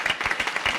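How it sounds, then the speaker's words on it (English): Brief applause from an audience at the UNAC 2017 conference plenary, a short patter of several hands clapping in quick rhythm, moderately loud and close. "I want to have us give a brief round of applause to our first round of speakers"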